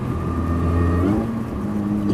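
MINI Cooper S R53 engine, a 200 hp track-prepared car, revving with a steady loud harmonic drone that climbs and settles, close and continuous with no talk.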